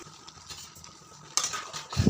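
Small chopped tomato pieces stirred in hot oil in a pan for tomato pachadi: a faint hiss, then a sudden clattering scrape of the spoon against the pan near the end.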